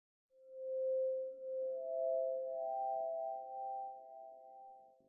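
A resampled tone played in a sampler, filtered and distorted, swells in slowly and holds as a sustained, glassy pitched drone with a second higher tone layered in partway through, fading slightly toward the end.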